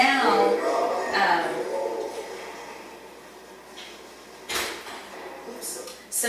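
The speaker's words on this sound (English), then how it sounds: "So that's that outside guillotine door closing." An outside guillotine door at an animal training enclosure slides and shuts with a sharp knock partway through, set among indoor room noise and a person talking.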